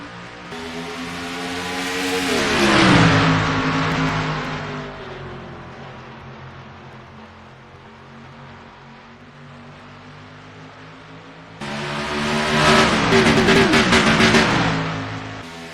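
Stock-car engines roar as a pack of race cars accelerates away from the green flag at Nashville Superspeedway, a loud rising drone that swells, fades as the field passes, then surges back with a second loud pass near the end.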